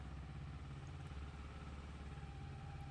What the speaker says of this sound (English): hopping on to this snazzy Ninja 250. Starting it up, ready to go